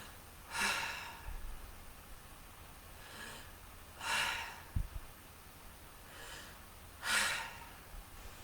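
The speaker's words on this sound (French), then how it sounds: "Je vais vous inviter à prendre 3 grandes respirations en inspirant et expirant par la bouche." Three slow, deep breaths in and out through the mouth during a guided relaxation, soft and close. Each is a breathy rush spaced a few seconds apart in an otherwise quiet room, with fainter exhales between them.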